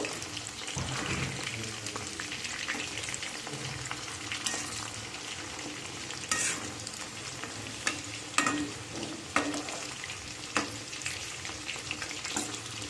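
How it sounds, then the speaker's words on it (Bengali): Pakoras deep frying in oil in a wok, a continuous fairly quiet bubbling sizzle with occasional sharper spatters and clicks, no voices over it. "কড়াই এখানে তেল দিয়ে দিয়েছি এবার আমি একে একে পকোড়াগুলো সব ভেজে নেবো"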